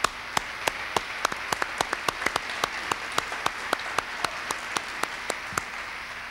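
Sparse, regular clapping from a small studio audience greets a music group on a 1977 television variety show, with evenly spaced sharp claps over a steady hiss, fairly faint and without voices.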